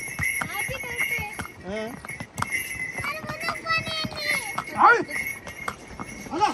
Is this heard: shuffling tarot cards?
no